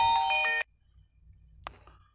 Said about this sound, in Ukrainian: Трохи телефон перебив.